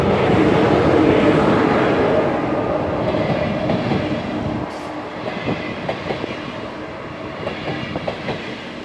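A train rolls past close by through a station on a side track, away from the main line, with a loud rumble that eases midway, leaving rhythmic clickety-clack of wheels over rail joints and a brief high squeal.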